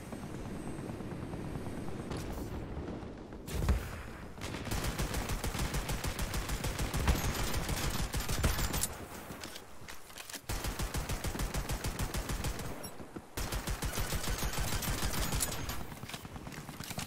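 Turret gunfire in the multiplayer shooter LEAP rattles in long, rapid bursts, loud and dense, broken by a few brief pauses between volleys.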